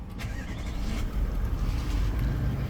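A 2020 Toyota LandCruiser 200 Series VX starts by push button, followed by a low, steady engine rumble close by with no talk.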